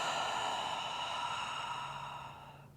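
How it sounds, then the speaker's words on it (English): An open-mouth exhale during yoga breathing, a long, steady, airy sigh that gradually fades, close and clear with no talking over it. "Deep breath in through the nose. Open mouth exhale."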